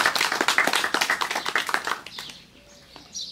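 Wedding guests clap in a brisk, uneven burst of applause that fades out after about two seconds, leaving a quieter room with faint scattered sounds.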